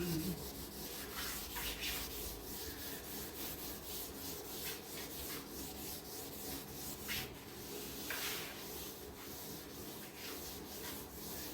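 Steady rubbing across a wooden fireplace mantel as stain is worked into the grain, a continuous scrubbing texture with soft strokes close by and no talking.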